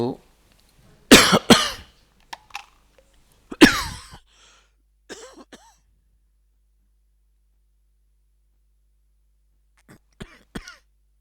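A few harsh coughs and throat-clearing bursts close to the microphone, separated by silence, with a brief voice fragment and faint hum.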